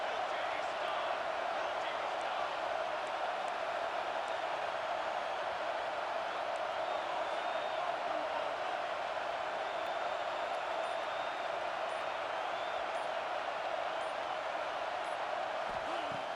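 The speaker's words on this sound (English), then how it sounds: "the crowd really making some noise now, trying to help out this defense to get this stop near the goal line" Crowd roar in the EA Sports College Football 26 video game during a goal-line defensive stand, a steady, dense wash of cheering and noise sustained throughout without letup.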